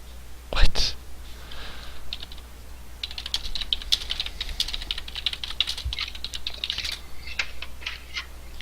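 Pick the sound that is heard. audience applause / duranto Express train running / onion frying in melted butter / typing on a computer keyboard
typing on a computer keyboard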